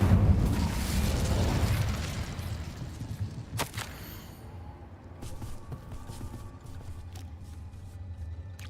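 The Incendio fire spell cast in Hogwarts Legacy erupts in a loud, roaring burst that fades into crackling and rumbling, with a few sharp pops and clicks in the tail.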